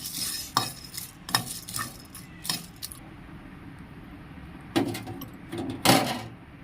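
Coriander and cumin seeds dry-roasted in a pan for a flat bean masala gravy, with a spoon scraping and stirring in bursts of metallic clinks and rattles over a soft sizzle, close up.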